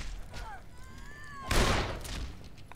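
A revolver gunshot in the zombie survival game Dead Island Riptide: one loud, close crack with a short decaying tail, preceded by rising tonal sounds and quieter background noise.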